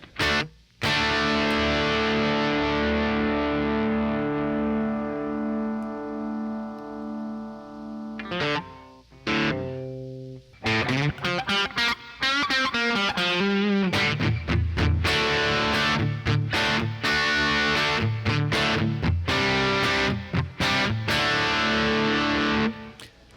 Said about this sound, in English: put the diffusion up, make it a little bit more of a slapback, put the reverb time all the way down.